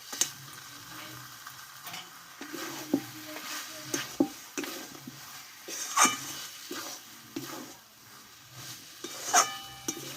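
Banana flower curry with ghee is stirred in a pan, a soft sizzle under repeated scraping strokes and occasional spoon taps against the metal, close and moderately loud over ten seconds with no speech.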